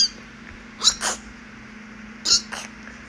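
Two pairs of tiny, quick sneezes from a small rabbit, soft and close, each a brief hissy puff separated by a pause over quiet background hum.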